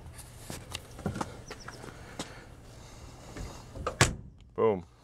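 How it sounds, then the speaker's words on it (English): Door of a 1958 Ford Ranchero, hardware cadmium plated, shutting once with a solid thump near the end, following quieter handling noises and clicks close by. "Boom. Door shut very nice."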